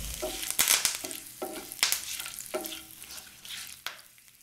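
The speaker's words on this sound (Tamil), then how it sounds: "இஞ்சி பூண்டோட பச்சை வாடை போகிற வரைக்கும் நல்லா வதக்கணுங்க" Ginger garlic paste sautés in a pan for a chicken curry, its sizzle broken by repeated loud scraping stirs of a spoon about every second or so, close up and without voices.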